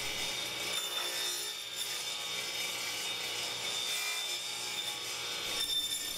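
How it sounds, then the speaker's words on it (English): Steady, continuous sawing of wood boards to cut notches and rabbets for shop drawers, with a scraping, rubbing texture that holds at an even loudness for the whole stretch, with no talking. "Make sure you line your boards up properly and cut the notches, cut the rabbits on the same side."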